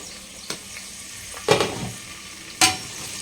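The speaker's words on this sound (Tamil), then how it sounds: "இப்போ ஆனியன் வந்து சேர்த்துக்கலாம்" Onions fry in hot oil for a cumin-seed-rice biryani, a steady low sizzle punctuated by three sharp stirring scrapes of a spoon against the pan.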